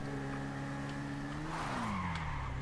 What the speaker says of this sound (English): Okay, handbrake turn,